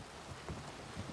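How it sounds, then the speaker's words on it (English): Faint, steady rain patters down in the video game Les Darcy as a soft, even hiss with scattered drop-like ticks and no voices. "once that rain stops, we're gonna go jump in some puddles"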